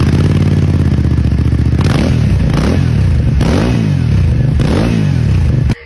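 A 217 kg motorcycle engine runs loud and close, rumbling steadily with several sharp revs rising and falling in a repeating rhythm before cutting off abruptly.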